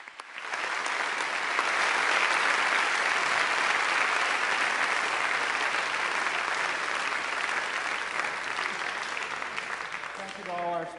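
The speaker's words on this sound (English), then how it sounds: "Let's have a round of applause for all of the candidates." An audience at a mayoral candidates forum on affordable housing, held in a church, breaks into sustained applause. The dense clapping swells quickly and holds steady for about ten seconds before tapering, and a voice starts speaking at the end.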